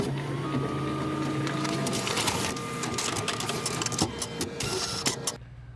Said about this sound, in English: Copier copying, take 3.